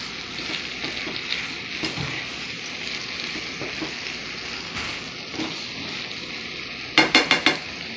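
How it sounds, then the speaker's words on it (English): Sausage and shrimp sauteing in a pan, a steady broadband sizzle heard up close with occasional utensil scrapes and a quick run of four metallic clinks near the end. "everything is sauteing"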